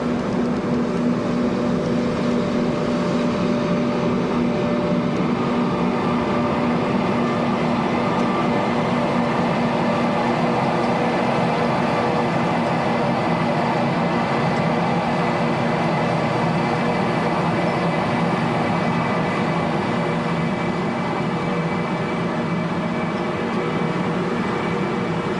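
A CP locomotive idles with a coal train at Pego power station, a loud steady diesel drone with tonal hum that holds without a break for the whole stretch, no voices.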